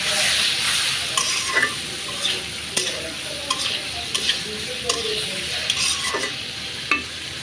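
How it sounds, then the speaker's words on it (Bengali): Potatoes stir-frying in hot oil in a pan for a fish curry, with a steady sizzle and sharp intermittent scrapes and clinks of a spatula stirring, close and fairly loud. "আমি আলুটাকে আগে একটু কষাই নিব।"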